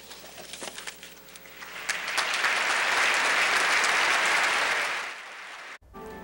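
A crowd at a funeral service in a temple rises in a spontaneous standing ovation, a dense, loud wash of applause swelling after a few scattered claps, holding steady, then cutting off abruptly.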